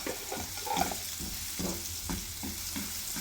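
Ginger sautéing and being stirred in a pan, with a soft continuous sizzle and several faint scraping stirs at a close, quiet level, no talk.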